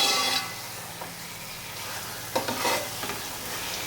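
Gongura chicken with garam masala is stirred in a sizzling pan, a continuous close fry with a few sharper scrapes of the spoon near the end and no talking.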